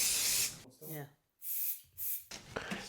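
Brake cleaner hisses from an aerosol can onto a Shimano Deore bicycle brake in short close bursts, with a voice heard between the sprays.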